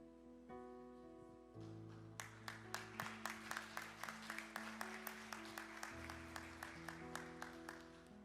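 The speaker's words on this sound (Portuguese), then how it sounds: "Eu sei que as palmas foram fracas" Weak applause from a church congregation: thin, sparse claps at a steady pace, ringing over sustained keyboard or organ tones that play throughout.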